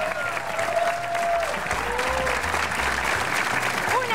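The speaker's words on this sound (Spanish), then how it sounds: "¡Ese aplauso para ellas!" A studio audience at a New Year's Eve variety show applauds loudly and continuously, a thick wash of clapping with a few faint voices and cheers rising briefly through it.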